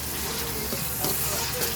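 Chayote with sardines sautéing in a pan, a steady close sizzle and crackle of frying without pause and without talk.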